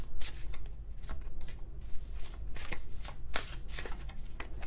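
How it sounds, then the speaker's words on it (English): Tarot cards being shuffled by hand during a love reading, a steady run of crisp riffling and soft flicking slaps, close and fairly loud with no talking. "I already shuffled"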